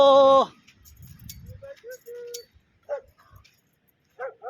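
A short, high dog whimper or yelp is heard early, followed by sparse muffled sounds and a few brief voice-like tones.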